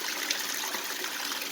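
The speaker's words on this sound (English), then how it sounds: "The water runs down through, hits this mat, comes again, hits this mat," Water trickles steadily through a homemade recirculating sluice, zigzagging down over mats in a pan; a soft, even, continuous flow, faint and close with no voices.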